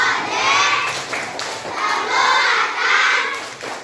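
A class of schoolchildren claps and chants together in a rhythmic P5 clapping cheer, loud and close, with patterned clap bursts under the group voices.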